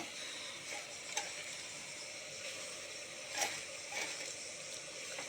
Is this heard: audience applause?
no